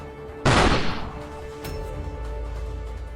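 A single sharp, loud gunshot-like bang cracks out in a tense confrontation, its broadband burst fading over about half a second into a low rumbling background, followed by a fainter secondary thump.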